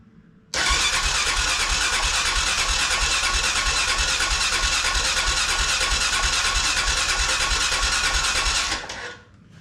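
A Honda Foreman ATV with its choke on, running on non-ethanol gas, catches and fires up, then runs steadily with a loud, even, rapid engine chug for about eight seconds before cutting off.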